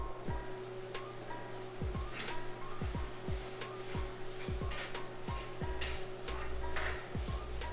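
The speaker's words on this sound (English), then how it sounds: "Cheyenne is over here cooking up some chickpeas right now" Chickpeas cooking in a pan, a soft steady sizzle with scattered pops and crackles, faint and close and carrying on evenly with no talking over it.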